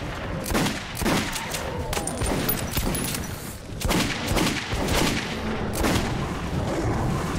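Sustained gunfire from the post-apocalyptic shooter Metro 2033, dense overlapping bursts with heavy booming reports rolling through the whole stretch at steady loudness, no voices.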